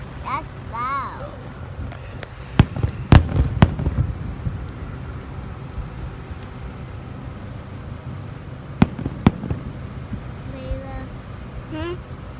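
Fireworks explode outdoors at night, with several sharp booming bangs, some in quick pairs, separated by quieter stretches, while people talk nearby.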